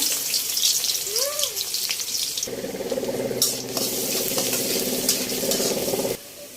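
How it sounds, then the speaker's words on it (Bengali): Onion frying in hot oil in a kadai: a faint hiss with a short squeak early on, then a louder, denser sizzle that holds for several seconds before it drops away abruptly. "এই যে তেলটা গরম হয়ে গেছে, পেঁয়াজটা দিয়ে দেব।"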